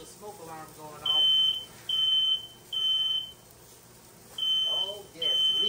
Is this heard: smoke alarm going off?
yes